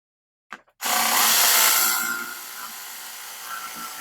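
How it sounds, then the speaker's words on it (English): A jigsaw cutting a hole in the bed of a Ford Maverick truck, starting with two short bursts and then a loud, close, sustained whine that gradually drops in level. "Now this jigsaw blade's very loud, so I'll put the volume down in this section"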